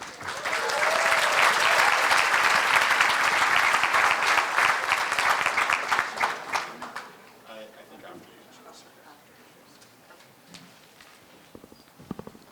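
Applause from a community forum audience welcoming a guest speaker, loud sustained clapping for about seven seconds that fades into quieter room noise and scattered sounds.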